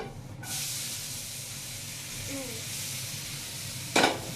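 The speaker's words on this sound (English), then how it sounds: "Now let's get our veggies cooking." Vegetables hit a hot pan and break into a steady, close sizzle and hiss that carries on evenly, with a brief louder scrape or stir near the end.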